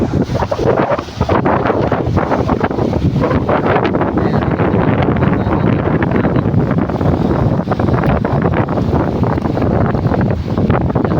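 Strong, steady wind at a beach buffeting the microphone with a constant loud roar, likely surf or waves mixed underneath, no talking.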